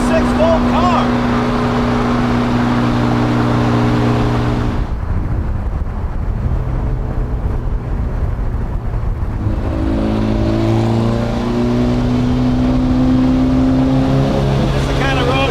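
A 1957 Porsche 356A outlaw, a 6-volt car, drones along a fast two-lane road with curves, its engine note steady and loud throughout with a shift in pitch midway, and a voice talking over it.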